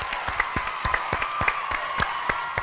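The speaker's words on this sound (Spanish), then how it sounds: "Fuertes los aplausos" A studio audience on the sports show Sportivísimo applauds guests José Báez and Pulvio Aranda with close, loud, rhythmic clapping that keeps a brisk, even beat.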